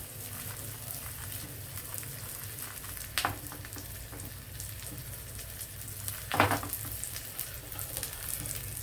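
A tempering for tomato dal frying in a pan, a steady close crackling sizzle like light rain, with two louder stirring scrapes along the way.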